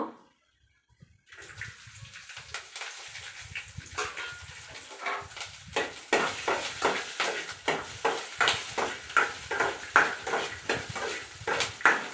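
Chopped ingredients for lemon rice tossed into a hot pan with peanuts, giving a steady sizzle and crackle with intermittent clinks of a spoon against the pan, rising in loudness after a quiet start.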